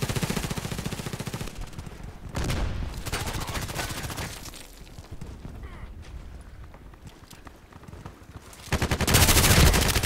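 Bursts of RPKT machine gun fire in the shooter game Contract Wars come in sustained rapid volleys. Loud stretches break off and start again, with a heavy burst at the end.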